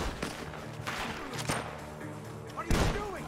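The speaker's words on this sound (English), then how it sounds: "Gunshots are coming from that barn!" Gunfire from a barn in Red Dead Redemption 2, several sharp shots cracking out at irregular intervals amid a busy game soundscape, with a louder blast near the end.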